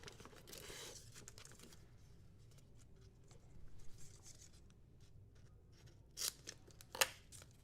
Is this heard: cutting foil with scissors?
yes